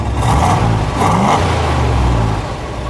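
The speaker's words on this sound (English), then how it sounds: "Factory dual exhaust. Go ahead, give it a rev." A 1964 Chevrolet Impala SS 409 V8 with factory dual exhaust revs up twice in quick succession, each rise roaring loudly before dropping back toward idle.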